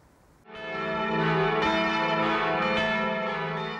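The nine large church bells of St. Ottilien abbey ring together loudly for the Sacred Heart feast, a rich sustained clang with overlapping strikes that swells after a quiet start and keeps resonating.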